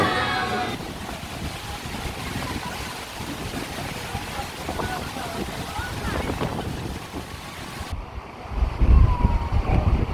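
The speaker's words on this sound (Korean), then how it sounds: "으아, 바람 보소." Strong typhoon wind gusts blast across an outdoor rooftop sky pool at a Boracay resort, roaring steadily with broadband microphone buffeting that swells into heavier low rumbling gusts near the end.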